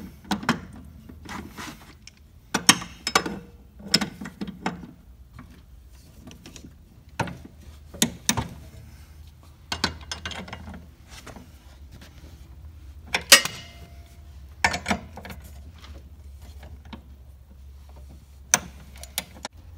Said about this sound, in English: you need to be using a torque wrench to put these on